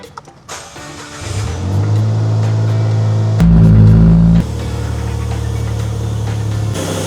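A minivan engine cranks and catches after three months unused, then settles into a loud, steady idle with a brief rev partway through, close by with no talking.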